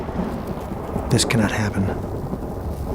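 A thunderstorm rumbles on a steady wash of heavy rain, with a louder crack of thunder about a second in. A voice speaks briefly over the storm.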